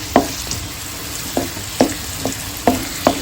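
Food frying in hot oil in a home kitchen while pulichai keerai thuvaiyal is made, a constant close sizzle punctuated by about eight sharp scraping clinks of a stirring spoon against the pan.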